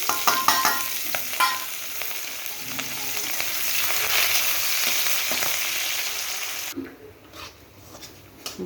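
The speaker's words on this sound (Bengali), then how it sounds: "তেলটা গরম হয়ে গেছে, এখানে পেঁয়াজ, রসুন, কাঁচা লঙ্কা কাটা দিয়ে দিব।" Chopped onion, garlic and green chili hit hot oil in a wok, giving a loud, close sizzle with stirring scrapes. The frying carries on steadily, then quiets toward the end.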